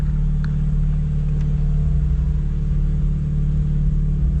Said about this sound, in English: you guys can hear the exhaust idling right now